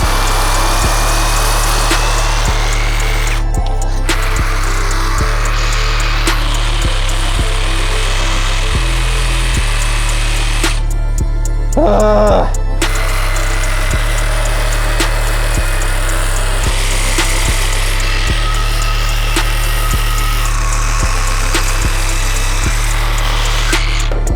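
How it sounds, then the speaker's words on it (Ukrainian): A Dnipro-M DRS-201BC Compact cordless reciprocating saw cuts through a concrete block in loud, close, gritty bursts of sawing with a couple of short pauses. No one speaks. "І навіть бетонний блок змогла відпиляти наша нова шабельна пила DRS 201 BC Compact."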